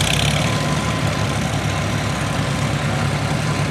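A Farmall H tractor engine idles at a fairground as it comes off a trailer, a steady, loud, low chugging rumble throughout with no talking.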